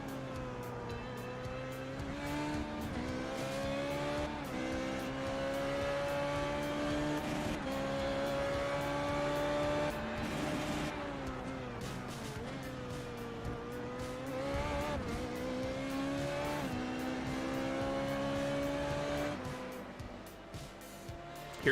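Simulated race car engine on an onboard lap of Road America in iRacing, loud and continuous, its pitch rising through the gears and dropping sharply under braking into corners, with faint tire scrub; no talking.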